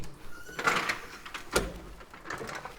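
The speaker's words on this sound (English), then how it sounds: "we've got our kitchen, which slides out of this drawer. Simply pull it out and tilt it up." A pull-out camping trailer kitchen slides out of its rear drawer: a few close scraping and clunking bursts, the loudest a sharp knock midway, with no voices.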